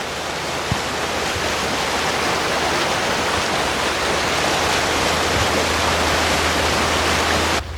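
A flooded creek in Oklahoma rushes and roars with loud, constant churning water noise that fills the whole stretch without a break.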